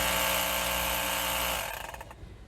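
A handheld 4-in-1 car vacuum cleaner with air pump and compressor runs with a steady, loud electric motor whine that winds down and stops near the end.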